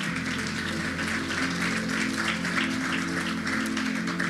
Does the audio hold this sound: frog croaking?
no